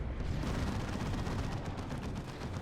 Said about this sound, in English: Let's see if the next battle cannon shot finishes it off, and indeed it does.